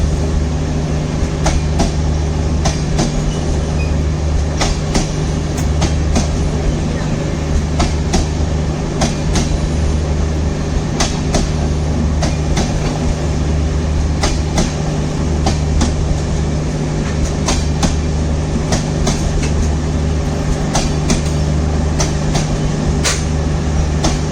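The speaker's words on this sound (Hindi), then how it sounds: "गुजरात से केरला तक जाने वाली तिरुवनंतपुरम वेरावल सुपरफास्ट" Thiruvananthapuram–Veraval Superfast Express, a long train of bright LHB coaches, rolls steadily past up close with a loud sustained rumble and repeated wheel clicks over rail joints, no voices.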